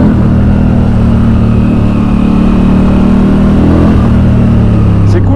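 A motorcycle engine with a thumping, single-cylinder-like character runs loud and steady throughout while the bike is ridden, with a constant low throb and no pauses.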